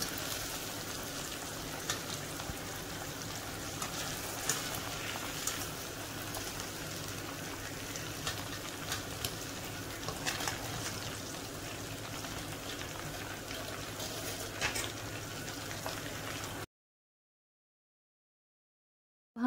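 Chicken and spices frying in a pan for Balochi tikka, a dense crackling sizzle like steady rain that runs continuously, then cuts to silence near the end.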